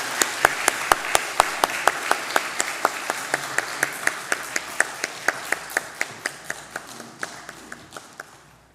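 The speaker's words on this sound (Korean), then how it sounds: "네, 박수로 환영하겠습니다." A congregation claps steadily to welcome two newly ordained elders at a church elder ordination and thanksgiving service, a dense run of sharp, regular claps lasting the whole stretch and slowly fading, with no talk over it.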